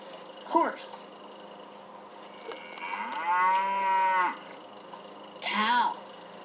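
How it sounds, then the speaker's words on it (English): A cow gives a long, drawn-out moo in the middle, bracketed by short spoken words before and after, all fairly close and clear. "Cow."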